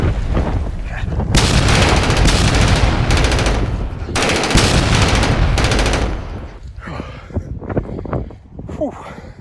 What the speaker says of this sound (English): We then see the troops running up the hill under enemy fire.